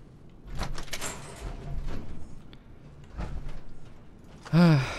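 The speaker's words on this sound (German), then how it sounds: "Türe offen." A door opening in the video game Fallout 4, a short mechanical swish and clunk near the end, after some quiet rustling and shifting sounds.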